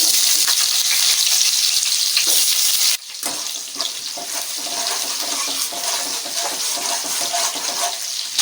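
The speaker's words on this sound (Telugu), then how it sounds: "ముందుగా కట్ చేసి పెట్టుకున్న ఉల్లిపాయలు వేసుకోవాలి" Chopped onions hit hot oil already crackling with cumin seeds, giving a loud, steady, hissing sizzle that dips for a moment and then settles into continuous frying with stirring.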